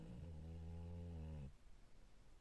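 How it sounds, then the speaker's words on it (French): A guard dog snoring in the Camargue countryside: a steady, droning rasp with a harmonic edge holds for about a second and a half, then drops away to quiet outdoor background. "Il est en train de ronfler lui."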